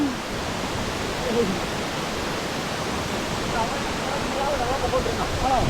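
A hidden waterfall at Ambalamedu in Kerala gives off a steady, dense roar of falling water that fills the scene without pause, with faint voices now and then beneath it.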